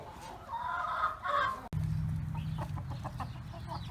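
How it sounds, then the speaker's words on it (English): Chickens at a farm attraction in Frankenmuth, Michigan cluck and call close by, a burst of busy clucking followed by lower murmuring fowl sounds, with no speech. "go in here and see these chickens"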